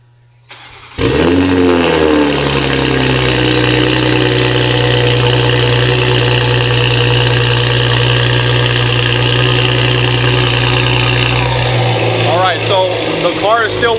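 A Toyota Supra fitted with an ARK Performance DT-S exhaust cold-starts with a sharp crank and catch, then settles into a loud, steady, droning idle that holds near and unbroken before a couple of quick blips at the end.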